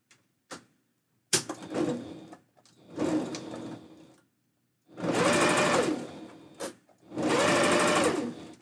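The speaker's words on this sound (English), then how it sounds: "sewing machine life." Close, loud sewing machine running in bursts, a steady mechanical whir that starts and stops, with short clicks and knocks between runs.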